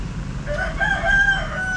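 A native chicken rooster crows once nearby, a clear drawn-out call with a rising then held tone that stands out over faint background rumble.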